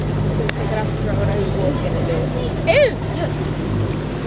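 A sailboat motoring under engine through a calm, comfortable ocean swell, with no wind, off Java near Krakatoa; a steady low engine drone and water wash run throughout while people talk and one exclaims briefly.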